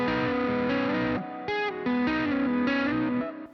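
An electric guitar in open tuning with effects plays a short melodic line, notes shifting in pitch over a few seconds, clear and up close.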